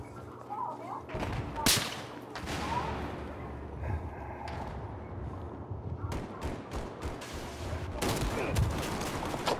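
Scattered gunshots and short bursts of fire in a Call of Duty match, sounding moderately loud over steady game background noise, with a player talking at times.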